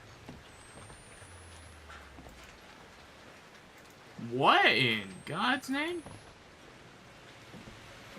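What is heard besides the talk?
blood raining down, from the video game Outlast 2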